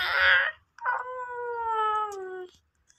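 A cat gives one long, clear meow that slowly falls in pitch, close and prominent. A short noisy burst comes just before it, with quiet around it.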